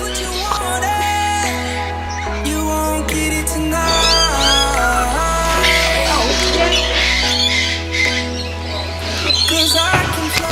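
A small bird squawks and chirps in short bursts over loud background music, at a rainforest village in Kuranda, Australia.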